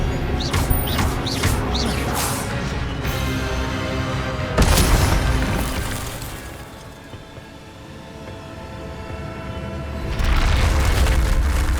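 Magical spells being cast in Hogwarts Legacy, with a run of rapid crackling bursts, then a heavy booming blast, a quieter rumbling stretch, and another loud surge of energy near the end.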